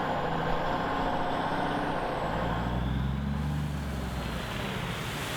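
Loaded truck hauling gravel slowly from a nearby pit, with a loud, steady engine drone and road rumble that continue without a break, plus a faint tonal whine near the start.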